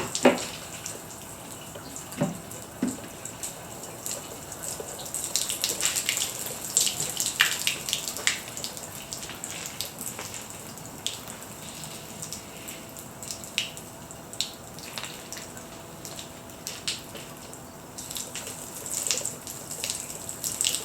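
Water trickling and splashing as it drains out of a Yeti Roadie 15 cooler, an uneven run of small gurgles, drips and splashes at close range, no voices.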